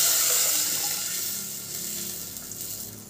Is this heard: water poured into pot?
yes